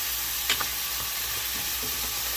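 Venison tossed in seasoned oil in a pot, a soft steady sizzle with one brief scrape of a utensil near the start, no voices.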